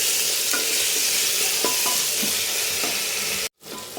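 Onion and tomato stir and fry in a pan with salt, a steady close sizzle broken by scraping spatula strokes, before a sudden brief silence near the end.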